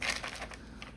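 Crunchy lined paper in a handmade junk journal being handled and flipped, a brief close crinkling rustle that starts sharp and fades to quieter crackles.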